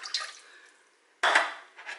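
Water poured into a pot to make caramel, two short bursts of splashing pouring, the second louder, in a quiet kitchen.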